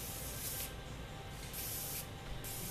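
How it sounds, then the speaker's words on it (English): Daily Shape working hairspray by ISO sprays through hair in a salon in two long, close hissing bursts separated by a short pause. "this time I'm using Daily Shape by ISO. And I'm just going to spray through it."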